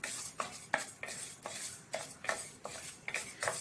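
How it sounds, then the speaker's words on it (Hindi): Moong dal is dry-roasted in a pan while stirred, giving a rhythmic series of scraping, rustling strokes, about eight in a row, quiet and close. "अब इस मूंग दाल को हम इसमें भून के लेंगे हल्का सा।"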